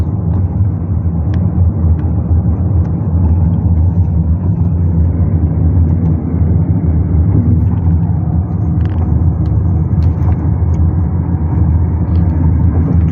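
Steady, loud low rumble of a car moving along city roads in Bangkok traffic, engine and road noise droning continuously with no voices.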